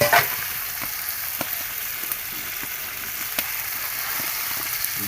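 Marinated river bata fish frying in a pan with tomato, a steady bright sizzle and crackle throughout, with faint clicks and stirring taps, no voices.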